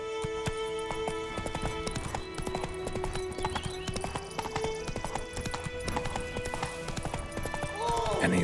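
A horse galloping in The Witcher video game: rapid, rhythmic hoofbeats drum steadily for the full stretch over a tonal music bed, growing slightly louder toward the end.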